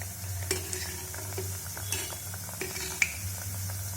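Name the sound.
sweets frying in oil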